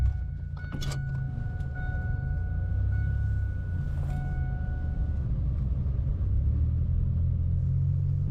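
A car drives up a mountain road in Alaska, its low engine and road rumble steady and close throughout, with a few faint rattles and clicks from inside the cabin.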